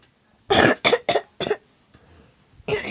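A series of harsh, close coughs, four quick bursts in a row, then a brief lull and another cough at the end.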